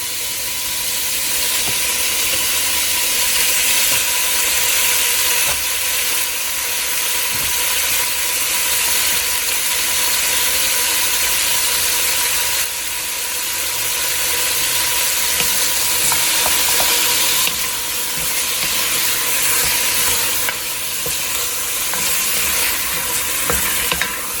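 Thinly sliced chicken sizzles steadily in a hot pan for Cajun pasta, a loud continuous frying hiss with occasional stirring and scraping and no talk.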